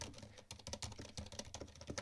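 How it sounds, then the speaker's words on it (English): Quick, even keystrokes on a Varmillo Maya Pro keyboard fitted with Cherry silent switches form a soft, muffled clatter that is quiet and close, with no talk over it. "say if you're typing on a keyboard"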